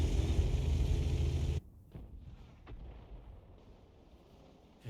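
Artillery rounds firing and landing in the tank battle video game World of Tanks, a loud heavy rumbling blast that cuts off abruptly, followed by quieter distant thuds and crackles.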